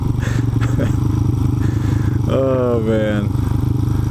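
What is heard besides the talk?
motorcycle engine running smoothly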